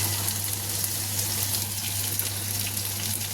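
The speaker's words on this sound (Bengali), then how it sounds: "এবার আমি এর মধ্যে দিয়ে দেবো গোটা জিরে।" Whole cumin seeds sizzle in hot mustard oil, a loud, even, close crackling hiss that runs continuously with no voices over it.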